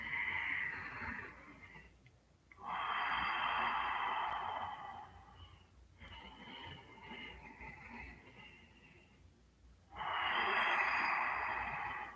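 Slow breaths held in a yoga pose, drawn in and let out in long hissing waves with brief pauses between them, close and steady with no talking.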